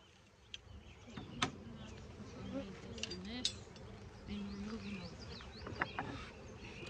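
During a beehive inspection, a bee buzzes close against a beekeeper's bonnet with a fluctuating hum, while soft voices talk and faint clicks sound in the background.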